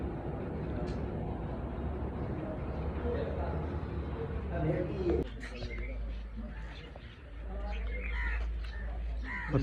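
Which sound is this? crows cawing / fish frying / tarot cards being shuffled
crows cawing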